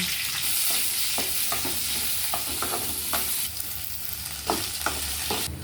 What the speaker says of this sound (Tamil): வெண்டைக்காயை வணக்கலாங்க வெண்டைக்காய் போட்டுக்கலாங்க